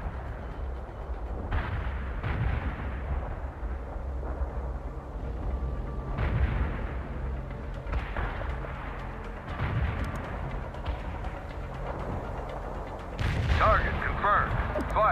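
Artillery guns fire repeatedly in the World in Conflict real-time strategy battle, during a Soviet assault to retake Seattle. Deep booming blasts keep coming at irregular intervals, with a louder, sharper burst near the end, and in-game radio voices talk over the barrage.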